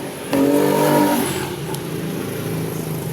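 Loud engine noise from motor traffic passing close by on a street, a strong rushing roar that swells early and then settles into a steady drone for the rest of the few seconds.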